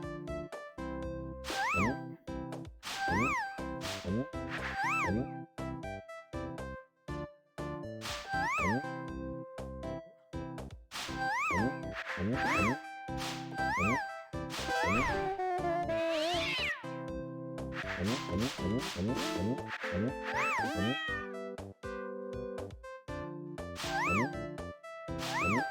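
Repeated cartoonish cat meows from the video game sCATch: The Painter Cat, sounding in a steady rhythm over busy game music and effects with no talking.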